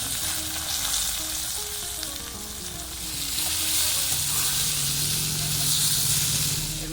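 Amla is poured into plenty of hot mustard oil with a few fennel seeds in a pan for pickle, setting off a loud, steady, close sizzle and hiss that swells partway through and keeps going without a break.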